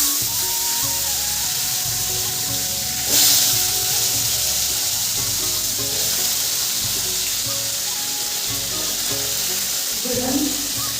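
Fish fries in hot oil in a home kitchen with a steady, loud sizzling hiss throughout, a sharper spitting burst near the start and faint clinks of stirring.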